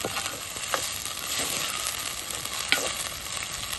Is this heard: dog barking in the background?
no